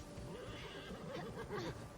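A horse whinnies in a scene from The Witcher series, a rising, wavering neigh under faint background sound, at moderate distance.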